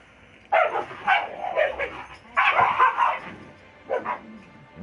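Dogs barking in the video game The Outer Worlds: several loud, close barks and yips in quick irregular bursts, with whimpering between them, over a low steady background.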